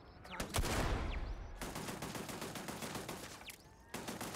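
Turret gunfire in the video game Starfield: dense, continuous rapid shots and loud broadband blasts fill the whole stretch, with a brief lull before firing resumes.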